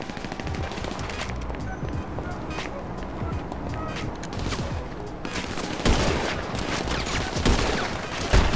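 Rapid bursts of gunfire crackle in a first-person GTA V Online game, dense shots and fusillades over continuous game noise, with a player talking over it.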